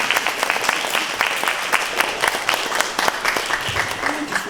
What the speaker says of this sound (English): I think, children, we need to give our audience a big clap